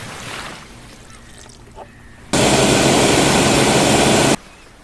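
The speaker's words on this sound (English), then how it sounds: "Let's get to blending." A blender whirs loud and steady for about two seconds, processing celery, one apple and two carrots into juice, starting and stopping abruptly after quieter kitchen sounds.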